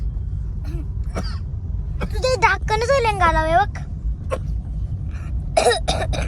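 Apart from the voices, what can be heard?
coughing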